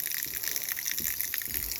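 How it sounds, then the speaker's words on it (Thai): Mountain spring water flowing year-round from the hills at Sapan in Nan, Thailand, a soft steady gurgle and trickle, fairly quiet and close, with no talk over it. "จะเห็นว่ามีน้ำไหล น้ำนี่มาจากบนเขานะครับ"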